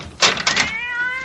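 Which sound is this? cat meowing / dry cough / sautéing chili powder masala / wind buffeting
cat meowing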